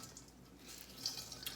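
Fresh water trickles and drips onto a folded washcloth, light splashy drips and a thin pour, soft and close in a quiet room.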